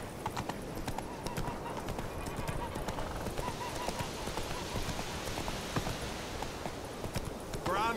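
Horse hooves clip-clopping at a steady gallop through The Witcher 3 game world, a dense, continuous close drumming with faint rain-like patter and a brief neigh near the end.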